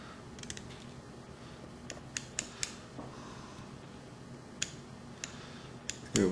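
Scissors snip away material near the hook eye while a fly is being tied, a series of small, sharp, quiet clicks spaced irregularly over faint background hiss.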